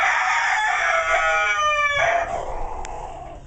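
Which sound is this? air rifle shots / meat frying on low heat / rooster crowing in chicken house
rooster crowing in chicken house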